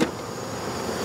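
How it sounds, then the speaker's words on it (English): Honeybees buzz loudly and close at an open hive while frames are being shaken during a colony split, a dense continuous hum that opens with a brief sharp knock. "I need good frames of food, so I'm just going to shake the bees off."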